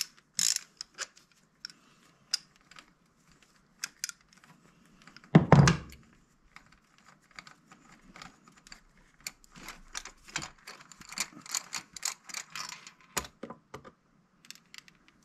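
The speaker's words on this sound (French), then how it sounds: "Vous rentrez votre clé au niveau du puits de bougie et vous dévissez." Ratchet wrench on a universal-joint extension loosening a spark plug in a Peugeot 1.4 16v engine, a heavy thunk followed by irregular quiet ratcheting clicks and mechanical rattles, close and alone.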